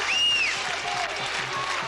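Crowd applause at a Pakistan versus South Africa cricket match in Sharjah, a broad steady wash of clapping from a stadium audience, with a brief whistle near the start.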